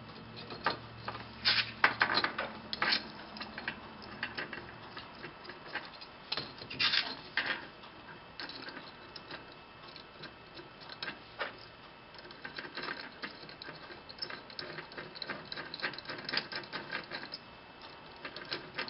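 Small screws being driven back into a stepper motor on a RepRap Huxley 3D printer, giving intermittent faint scraping and clicking with brief metallic ticks, close up and without talk.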